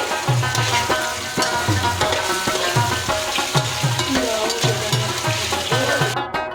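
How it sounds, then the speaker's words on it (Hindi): Chips frying in oil on a stove, a loud and dense continuous sizzle with bubbling crackles and some rhythmic stirring or clinking underneath. "दूसरे चूल्हे में हम चिप्स फ्राई कर रहे हैं।"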